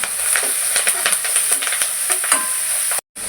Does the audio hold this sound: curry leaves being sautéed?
yes